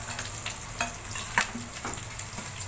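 Garlic and green chillies frying and being stirred in a pan, a steady close sizzle with occasional scrapes of the spoon, no voices.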